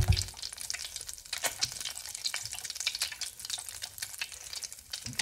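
Chicken satay rangoons deep-fry in hot oil with a steady, moderately quiet sizzle and scattered crackling pops, close by and with no voices.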